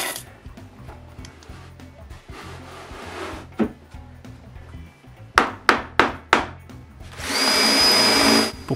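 A wooden bed frame being screwed together, with a steady low whirring, scattered knocks of wood, then a run of sharp close raps and a final sustained whine. There is no talking.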